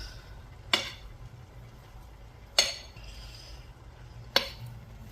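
Mixing vegan bangers and mash ingredients in a bowl, with three sharp utensil clinks against the bowl spaced about two seconds apart over soft, quiet background stirring.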